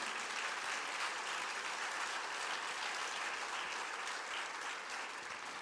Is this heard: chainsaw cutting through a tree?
no